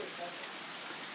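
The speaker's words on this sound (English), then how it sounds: "Suddenly now it really has started raining" Heavy rain pours steadily outside a house, a dense, even hiss of drops on surfaces holding at a constant level for the whole stretch with no pauses.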